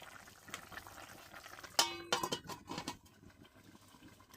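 Papaya curry with hilsa fish bubbling in a covered pot, faint soft boiling with a brief clink of the lid or utensil partway through, quiet and close.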